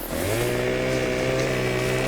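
Steady engine drone of a chainsaw cutting trees in Farming Simulator 2015, a continuous loud harmonic buzz with no pauses and no talk over it.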